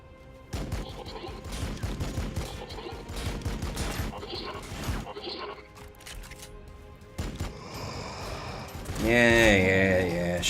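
Gunfire in Warhammer 40K Battlesector, a battle of repeated sharp shots and impacts in irregular bursts, with talk at times and a louder swelling effect near the end.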